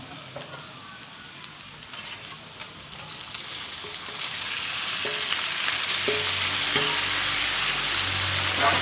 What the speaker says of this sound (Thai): ผัดเครื่องหอมๆแล้วก็ปลาไหลใส่ครับพี่น้อ